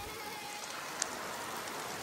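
Steady rain falls on an outdoor surface, a continuous soft hiss with no talk and one small sharp drip or tap near the middle.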